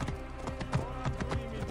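Cavalry reinforcements ride past in Assassin's Creed Origins, a quick run of hoof thuds at moderate distance, with a faint whinny over a steady game-ambience bed.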